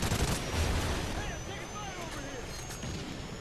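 Bursts of gunfire in the video game Call of Duty: Ghosts, a loud rattling volley at first that thins into scattered shots under a soundtrack, with voices talking over it.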